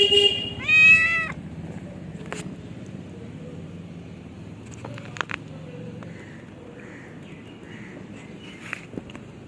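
A cat named Chingri gives a clear, loud meow near the start, followed by quieter faint sounds and light movement in a room with low background noise.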